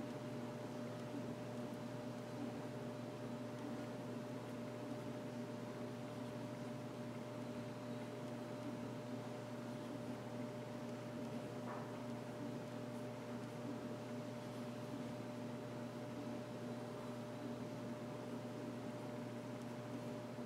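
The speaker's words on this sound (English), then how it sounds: "dryer in the background. I forgot and put it on." A clothes dryer runs steadily in the background, a constant low hum with a faint mechanical whir that stays even and unbroken throughout, with no talking.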